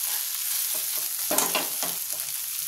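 Chopped tomato and green chilli go into a crab curry frying in a pan, with a loud constant sizzle and a few stirring scrapes breaking through it.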